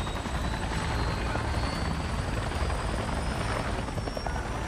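In the video game Avatar: Frontiers of Pandora, a helicopter roars continuously with dense rotor chop and a high turbine whine, loud and near for the whole stretch.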